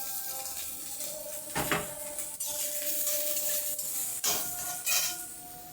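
Garlic, green chili and chopped onion stirred in a sizzling pan, with a spatula scraping and clanking against the metal in a few louder strokes over a constant frying hiss.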